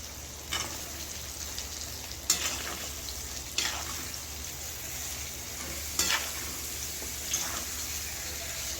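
A mix of onion and potato frying in a pan for a sabzi, a constant hissing sizzle like light rain, with occasional spoon scrapes and clinks standing out.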